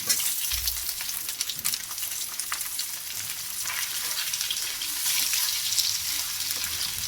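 Chopped onion frying in oil over ginger paste in a pan, a steady close hiss and sizzle throughout, with faint stirring scrapes and no voices.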